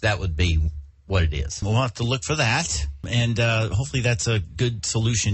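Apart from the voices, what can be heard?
No everyday noise stands out behind the speech.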